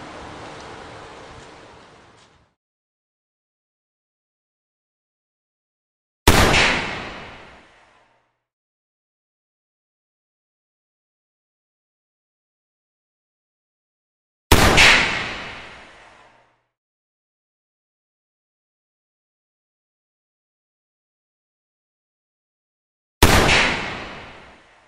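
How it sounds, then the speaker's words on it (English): An AirForce Condor air rifle fires 32 grain and 28 grain pellets: three sharp, loud shots spaced several seconds apart, each cracking hard and dying away in about a second, with silence between them. "we're going to put a 32 grain pellet through the Condor, and then we're going to follow up with a 28 grain pellet"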